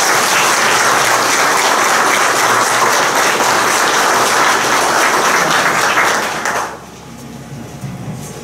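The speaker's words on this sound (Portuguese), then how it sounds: "Vamos acolhê-lo com uma calorosa salva de palmas" A church congregation at a baptism claps warmly to welcome a child named Lucas, a loud, dense, sustained round of applause that stops abruptly near the end, leaving quiet room tone.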